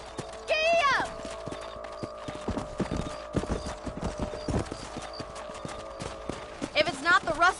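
Rhythmic clip-clop of a horse galloping on a ranch in the Western video game Red Dead Redemption, with a loud whinny at the start and another at the end.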